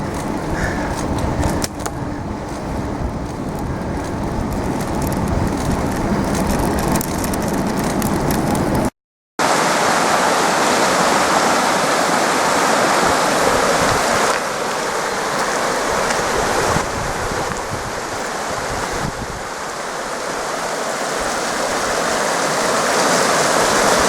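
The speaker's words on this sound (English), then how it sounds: "the Koka River is slowly getting smaller and smaller as we come up the valley" Steady broadband rush of the Koka River flowing in a valley, loud and continuous, with a brief dropout partway through and no talking.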